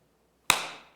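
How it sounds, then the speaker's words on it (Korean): One sharp hand clap, close and clean, with a short fading decay in an otherwise quiet room. "박수를 치시는 거예요"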